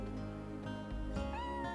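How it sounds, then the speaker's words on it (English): Cats meow in the video game Chrono Cross, a few tonal in-game mews rising and falling over a steady bed of game music, with no one talking over them. "Meow, says the cat."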